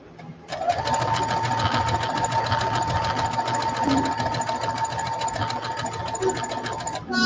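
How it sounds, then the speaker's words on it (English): A sewing machine hems a t-shirt or jeans in a steady, continuous whir of rapid needle strokes, loud and close, running for about seven seconds with a brief pause near the end. "I'm just sew over it."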